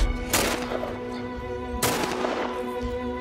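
Two sharp, loud gunshots from The Last of Us game ring out about a second and a half apart, each with a brief booming decay over a steady tonal background hum.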